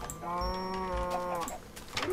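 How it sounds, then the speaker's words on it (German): A cow in the Minecraft video game gives one long, drawn-out moo. It sounds close and clear, with brief game sounds around it. "Kuh. Nein, Kuh, danke."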